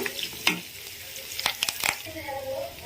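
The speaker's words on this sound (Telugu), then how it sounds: "నేను పోపు అనేది పచ్చెనగపప్పు అన్నీ కలిపి వేసాను." A tempering of chana dal frying in hot oil, a close sizzle broken by several sharp spattering pops and stirring clinks.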